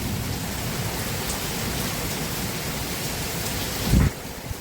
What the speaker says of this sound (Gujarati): વરસાદે બહુ ચાલુ થઈ ગયો છે.